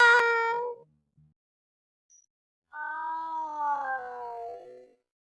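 A cat meows in a video game: a short bright meow, a pause with near silence, then a longer, drawn-out falling meow, clear and alone.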